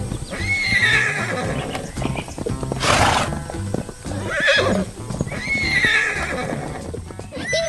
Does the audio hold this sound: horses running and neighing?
yes